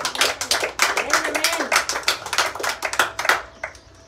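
Church congregation clapping hands in quick, rhythmic bursts close by, with a voice speaking over the claps before they trail off.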